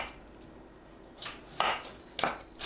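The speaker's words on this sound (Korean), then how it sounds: "감자를 1cm 두께로 썰어주세요." A knife cuts potatoes into 1 cm slices on a board, giving a few sharp separate chops after a quiet stretch, close and clear with no talking.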